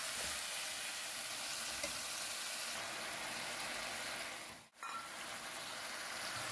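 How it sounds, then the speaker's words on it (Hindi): Garlic ginger paste frying in a pan for biryani, a steady dense sizzle and hiss throughout, with a brief dip near the end as if stirred or moved. "अब ये इसमें अच्छी तरह आपने भूनना है।"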